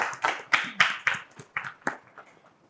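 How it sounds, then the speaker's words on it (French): Scattered hand claps from an audience at a stage event honouring an artist, a handful of sharp, uneven strikes that thin out and fade toward the end, fairly quiet. "On applaudit encore plus fort."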